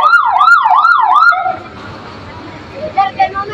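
A fire truck siren wails in a fast rising-and-falling yelp, loud and close, as the truck arrives at a building fire, then cuts off to a background murmur of crowd voices and street noise.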